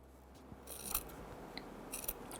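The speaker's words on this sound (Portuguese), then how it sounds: "Pode cortar com tesoura ou com cortador." Scissors snip through quilting fabric along seam lines in patchwork work, a few soft crisp cuts with rasping fabric friction, close and fairly quiet with no talking.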